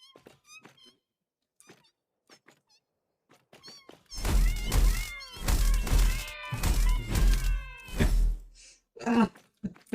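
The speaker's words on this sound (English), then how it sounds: "Mewing at me." A kitten in a video game's deep, dark cave mews repeatedly, faint and sparse at first, then a burst of loud, close meows and wails with a thunk near the end.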